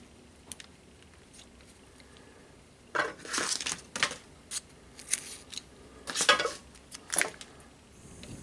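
A strip of 1200-grit wet-and-dry emery tape is pulled tight around a Prince dynamo motor bearing in a home workshop, giving short, raspy scraping strokes in irregular bursts against a quiet background.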